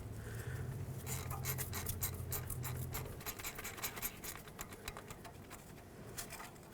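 Ratcheting and scraping on an 8mm bolt at the steering knuckle of a 2008-2010 Ford F-250, with quick rasping clicks through most of the clip and a low steady hum underneath during the first few seconds.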